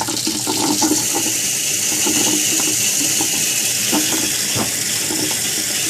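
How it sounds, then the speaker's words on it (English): Aquarium clean and fill siphon pulling water by suction, a loud continuous rushing gush like a draining faucet, steady and close throughout with no speech. "That's the sound of the suction."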